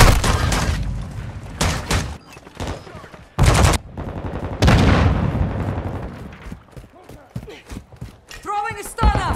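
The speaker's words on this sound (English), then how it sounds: "Stun grenade out!" Bursts of gunfire and a stun grenade blast in a Call of Duty match, loud sharp cracks and booms in quick clusters with gaps between, game voices calling out over the action.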